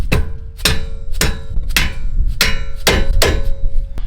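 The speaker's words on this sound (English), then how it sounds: "used a little rubber mallet there to, or a dead blow hammer to get that bottom bolt loose" Dead blow hammer striking a stuck lower bolt on an Infiniti G35 suspension, seven sharp, loud metallic whacks spaced about half a second apart, close by, with no talk.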